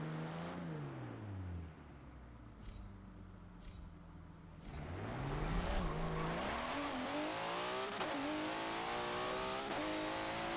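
A twin-turbo RB26-swapped Nissan S13 launches down a drag strip in Forza Motorsport 7, its engine climbing through rising revs with sharp shift breaks and a brief tire chirp, loud and close with no talk.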